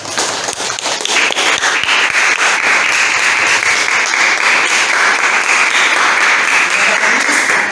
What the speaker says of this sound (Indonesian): Kita beri aplaus kepada kelompok 1 atas prestasinya.